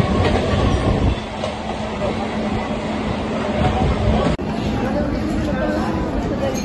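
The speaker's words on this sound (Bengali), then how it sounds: "এই হচ্ছে বোলপুর শান্তিনিকেতনে আমাদের ট্রেন।" A train at Bolpur Shantiniketan station rumbles steadily with rail clatter and a faint squeal, while nearby passengers chatter and talk throughout.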